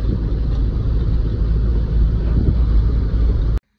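A car driven at night on the Daund road past the Nagar bypass gives a steady low engine and road rumble from inside the cabin, loud and unbroken until it cuts off abruptly at the end.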